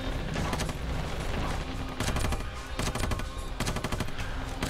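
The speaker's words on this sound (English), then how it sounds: "A belt-fed LMG, please. More bullets, less reloading. Light machine guns." A belt-fed light machine gun fires in the Ravenfield video game in long, rapid bursts of closely spaced shots. The fire is loud and near, with brief gaps between the strings of rounds.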